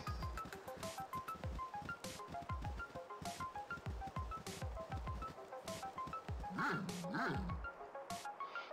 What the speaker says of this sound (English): Couple of wild dogs here we got to take out.